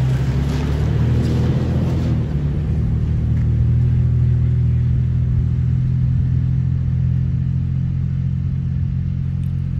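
Toyota 4Runner TRD Pro stuck in sand at White Pocket, Arizona, its engine a steady low rumble that surges early on, then holds at an even drone with no talk over it.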